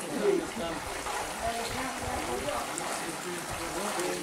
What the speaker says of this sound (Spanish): Y ahí ya va saliendo el mezcal